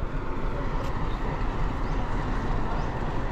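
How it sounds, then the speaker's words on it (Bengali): An engine-hauled train stands at a station near Goram Ghat in Rajasthan's Aravalli hills, giving a steady broadband rumble and hum with no clear events, continuous and moderately loud. "আর সামনেই আমাদের দাঁড়িয়ে আছে এই ইঞ্জিন ট্রেন"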